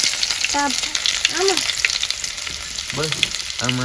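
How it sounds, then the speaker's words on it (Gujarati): Mustard seeds and cumin crackling in hot oil for a Gujarati village-style dahi tikhari, a steady close sizzle with scattered pops, while voices speak intermittently over it. "તેલ ગરમ થઈ ગયું છે રાઈ ફૂટી ગઈ"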